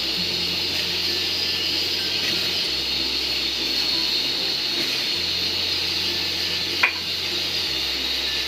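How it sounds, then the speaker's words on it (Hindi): Water boiling in a cooking pot before orange peel goes in for orange candy, a steady close hiss and low bubbling rumble with one brief click. "ये हमारा पानी उबल रहा है"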